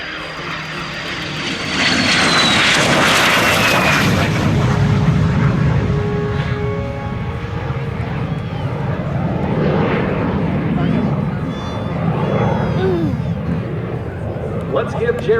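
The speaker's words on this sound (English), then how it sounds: "Another low altitude, high speed pass from our left." A de Havilland DH-115 Vampire jet makes a low-altitude, high-speed pass at an air show, a loud, broad roar that builds in about two seconds and stays strong, with a public-address voice over it.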